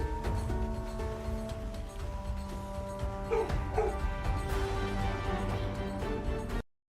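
Dogs barking and yipping inside a Project Zomboid game, with short whimpering yelps rising over steady background game music and ambience throughout.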